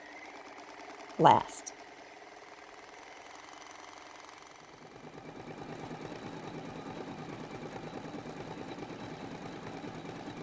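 A sewing machine stitches fusible applique with a quiet, rapid, rhythmic chatter that starts a few seconds in and continues steadily under a person speaking, after a short sharp knock early on.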